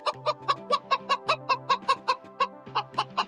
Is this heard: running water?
no